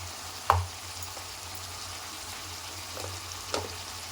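Tomatoes cooking in a pan with a spoonful of salt for a brinjal curry, giving a low, steady sizzle with a couple of brief spoon scrapes and clinks against the pan.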